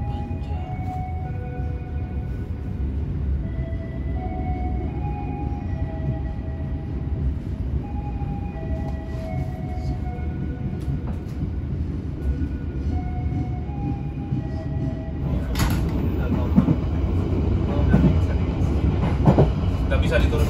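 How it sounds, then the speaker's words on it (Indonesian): Pasundan passenger train at Banjar station, a steady low rumble of the train and its engine holding for the whole stretch and swelling slightly near the end as it departs, with faint station tones and a voice under it. "api Pasundan tujuan akhir Kiara Condong persiapan diberangkatkan"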